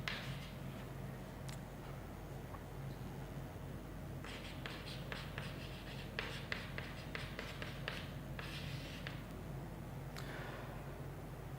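A teacher in a physics lecture on electric current writes on the board: a long run of quick, rhythmic scratches and taps from the writing, close and fairly faint over a steady room hum, with no talk.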